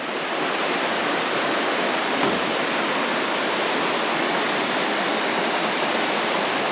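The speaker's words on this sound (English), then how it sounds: "crossing the bridge here, crossing the river" A river rushes below a trail bridge on a canyon trail lined with waterfalls in Oregon, making a loud, unbroken broadband roar of flowing water that stays constant throughout, with no speech.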